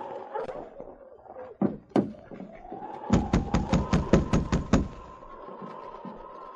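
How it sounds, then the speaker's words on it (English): Knocking on a wooden cabin door as a radio drama sound effect: two single raps, then a firmer run of about eight quick, loud knocks, with a sustained tone and faint background sounds behind them. "getting no response to his knock, he tried again a little harder"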